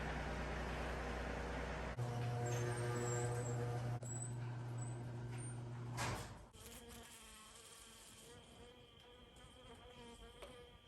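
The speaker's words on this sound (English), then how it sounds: "Very upset bee that came in." An agitated bee buzzes around a light in a workshop, a loud close drone with shifting pitch for several seconds, dropping to fainter buzzing after a sudden change.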